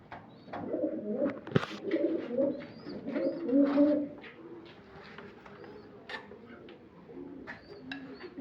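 Several pigeons coo in overlapping, burbling phrases nearby, with a sharp knock early on and light flutters and clicks around them.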